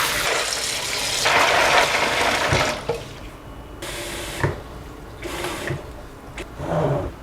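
Soaked soybeans are rinsed under a running tap, with a loud, steady gush of water at first, then intermittent splashes and sloshing as the beans are stirred and the flow starts and stops.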